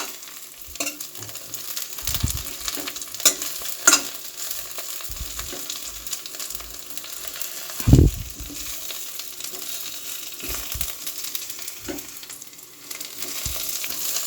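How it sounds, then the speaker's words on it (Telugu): Fresh coriander and tamarind frying in a pan for coriander chutney: a low, constant sizzle broken by intermittent spatula scrapes and clanks as the mixture is stirred, with no talk. "ఇలా చింతపండుని కూడా వేసుకుని మనం ఫ్రై చేసుకోవడం వల్ల చింతపండు కొంచెం మెత్తబడుతుంది."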